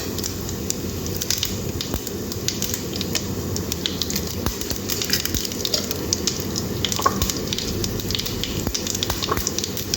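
Urad dal, cumin and dried chillies sizzle steadily in hot oil with mustard seeds for a potato poriyal, a loud continuous crackling fry with small pops throughout and no talking.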